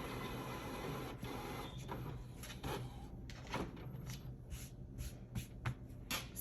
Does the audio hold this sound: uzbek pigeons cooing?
no